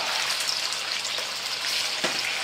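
Squid pieces, cut for a Provençal-style dish, fry in a hot pan with a steady, dense sizzle that continues throughout, plus a brief louder spit of juice near the end.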